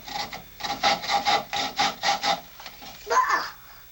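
A hand saw cuts through wood in a home workshop, with about eight rapid, rhythmic rasping strokes, close and clear, followed by a pause and a couple of slower, scraping strokes.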